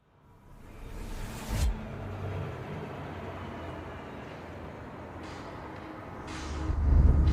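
A car driving along a road toward an abandoned theme park on Spain's Costa del Sol: a steady interior engine-and-tire rumble with a brief whoosh early on and a swelling roar near the end.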